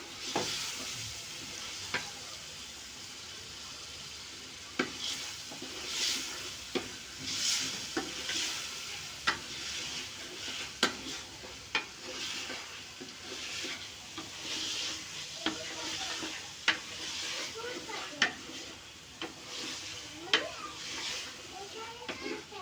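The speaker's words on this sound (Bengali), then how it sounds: "মাংসটা দিয়ে আমি কষিয়ে এটাকে সিদ্ধ করে তারপর এখানে খিচুড়ি চাল অ্যাড করবো" Beef head meat being sautéed and stirred in a pot for a thin beef khichuri, a continuous sizzle with repeated sharp clacks of a spoon against the pot, close, while faint voices talk in the background.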